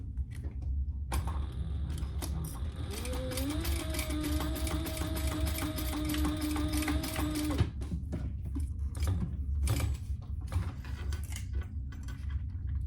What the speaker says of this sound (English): we're gonna put the end of the webbing over the slider and stitch that in place